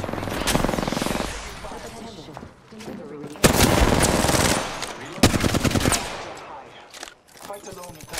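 Rapid automatic gunfire in Apex Legends on Kings Canyon, loud bursts of sustained firing with short gaps between them, mixed with game effects and a player talking.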